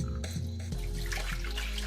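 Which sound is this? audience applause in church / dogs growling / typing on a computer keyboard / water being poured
water being poured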